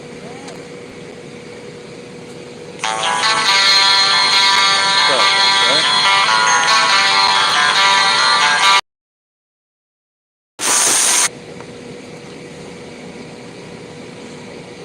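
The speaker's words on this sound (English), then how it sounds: "That was brought to you by my random notification." A phone notification alert buzzes loudly for several seconds over a low background hum, then cuts off. A brief, sharp burst follows after a short silence.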